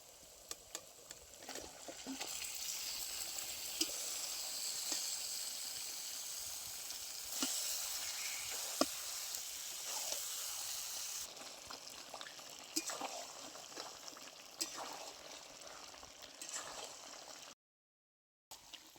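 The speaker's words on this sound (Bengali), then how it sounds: "মশলার মধ্যে বেশ কিছুক্ষণ মাংসটা কষিয়ে নিয়েছি" Marinated chicken sautéing in spice paste in a pan gives a soft, continuous sizzle with faint stirring scrapes and small clicks, steady and fairly quiet before a brief cut-off near the end.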